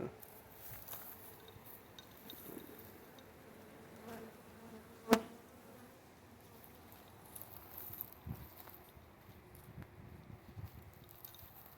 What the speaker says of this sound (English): one of the bees is kind of perturbed at me for getting too close.